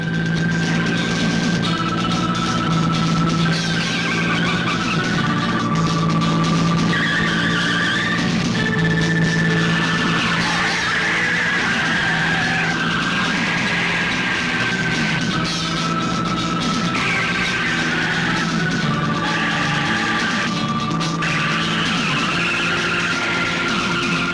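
A car speeds through a chase scene in an action Hindi movie, tires squealing and skidding over and over with high pitched whines above a steady engine roar, loud and continuous throughout with no talk.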